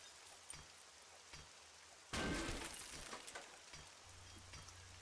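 Objects being chopped and smashed in 7 Days to Die, a sudden sharp breaking crash with scattered debris after quieter intermittent knocks, fairly faint overall.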